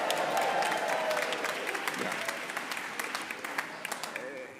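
Audience applause at a Pride Shabbat gathering, a dense wash of clapping that holds steady for several seconds, with faint voices mixed in, then slowly thins toward the end.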